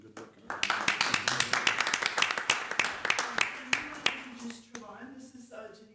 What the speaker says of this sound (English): If you join me in a round of applause for these folks doing good work.